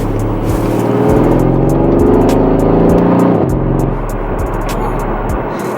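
Mercedes C63 AMG V8 engine and exhaust revving loud and close, a deep sustained snarl with rising and falling pitch, punctuated by sharp crackles and pops from the exhaust throughout.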